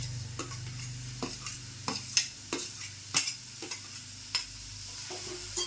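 Sliced onions frying in hot oil in a pan, a soft sizzle broken by a series of sharp scraping stirs at an irregular rhythm, fairly quiet and with no talking.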